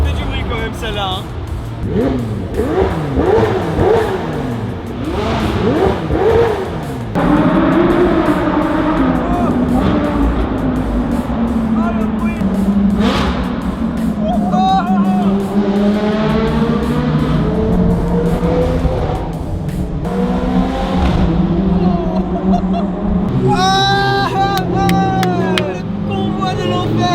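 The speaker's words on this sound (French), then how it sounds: "La 430 et la R8, c'est un truc de malade le bruit également." A Ferrari 430 and an Audi R8 roar along a wet road, with engines revving and rising and falling in pitch close by while people talk excitedly over them.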